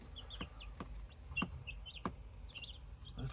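Young Cuckoo Maran chicks make faint, sharp tapping pecks at an irregular pace, mixed with soft high peeping chirps close by.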